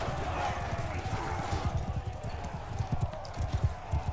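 Horse hooves in a video game clip-clop in a rapid, uneven patter under a constant background hum, moderately loud and close.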